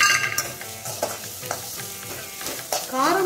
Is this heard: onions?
yes